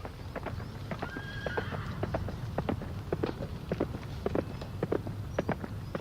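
A horse clip-clops nearer at a walking pace and whinnies once, its hoof beats clear and fairly close over a low outdoor rumble in a 1964 Count of Monte Cristo duel scene.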